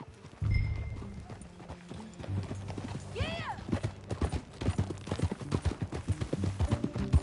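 Horse hooves clip-clop in Red Dead Redemption 2, a steady rhythmic trot of close, crisp hoof strikes, with a voice over the start and a quick horse whinny partway through.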